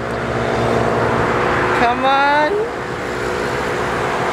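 Steady broadband roar of highway traffic runs throughout, with a brief rising tonal sweep from a passing vehicle midway and a short shout of a person over the noise.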